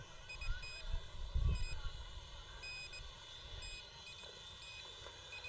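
Repeated high-pitched electronic beeps from a Potensic T18 drone in follow-me mode chirp at a steady pace over a low hum, with some thumping and handling noise near the start.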